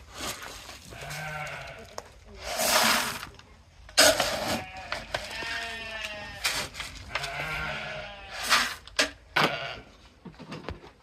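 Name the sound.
sheep bleating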